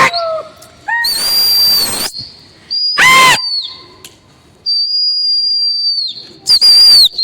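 Pigeons flying overhead, with sharp whistling tones and bursts of whooshing wingbeats that come and go, loud and close at times.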